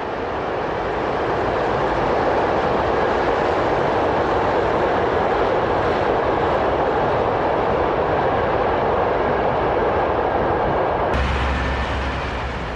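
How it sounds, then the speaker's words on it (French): Express train hauled by locomotive 5053 pulling out from platform track 1 on the Paris–Dijon line, a steady, loud broadband rumble and roar of wheels and engine sustained throughout, with a brief low thump near the end. "c'est sur la voie des Seigneurs que s'élance notre express"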